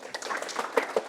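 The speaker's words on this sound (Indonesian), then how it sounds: "tepuk tangan dong" A classroom group applauds together, a short burst of dense, even clapping at moderate loudness with no voices over it.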